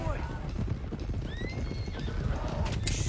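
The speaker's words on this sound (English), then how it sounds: "One of the stallions is loose." Hooves clip-clopping and a horse neighing in the Red Dead Redemption 2 video game, a loose stallion whinnying over steady hoofbeats, close and fairly loud, with game music and talk underneath.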